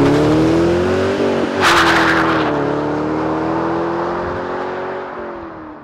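A classic 1968 collector's car with a 4.6 liter engine revs and accelerates close by, its engine note rising and shifting through gears with a loud surge, then easing as it pulls away.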